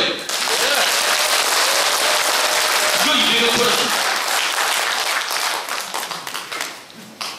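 An audience at a housing redevelopment general meeting breaks into loud, sustained applause with someone speaking over it, the clapping tapering off in scattered claps toward the end.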